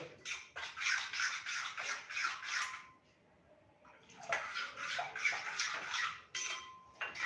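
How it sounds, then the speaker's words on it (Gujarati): Rapid, rhythmic scraping and whisking of semolina dhokla batter being mixed in a bowl, two long bursts separated by a brief pause. "એને આપણે એકદમ સરસ મિક્સ કરી લઈએ"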